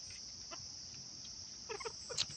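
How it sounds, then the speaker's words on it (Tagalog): A chicken on a farm gives a few soft clucks near the end, faint against a steady high insect-like drone, with no speech. "Ito yung manok guys, oh."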